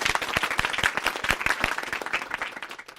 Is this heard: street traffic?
no